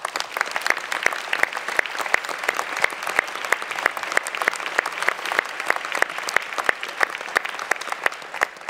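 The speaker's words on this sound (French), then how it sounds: "on peut les applaudir" Audience applause at a New Year's greetings ceremony, a steady roomful of clapping hands with distinct sharper claps standing out, sustained evenly throughout with no talking over it.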